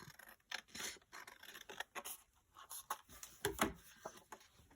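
Scissors trimming a strip off a paper folio: a quiet run of short, crisp snips and scrapes in an uneven rhythm, close up with no talk.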